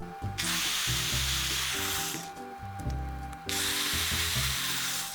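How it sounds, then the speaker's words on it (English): A power drill whines loudly and steadily, drilling pilot holes into wood in two long runs separated by a brief pause, close up and without speech. "we're going to take the drill, we're going to drill pilot holes"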